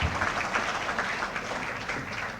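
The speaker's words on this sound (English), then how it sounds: "Could we give Claudia Thompson again another round of applause?" Gala audience applauding after a Prime Minister's New Year's Gala address, a dense steady wash of many hands clapping throughout, full and sustained with no break.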